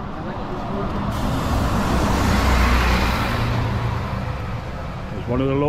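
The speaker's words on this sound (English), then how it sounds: "One of the local buses just gone past." A local bus rumbles past nearby in Kolymbia, Rhodes, its engine roar swelling and fading over a few seconds amid street ambience.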